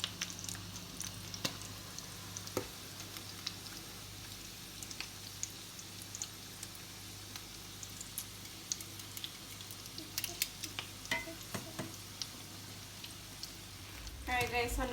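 Flautas frying in hot oil under a splatter screen, a soft, steady sizzle with scattered crackles and pops, fairly quiet and close, with a voice speaking over it.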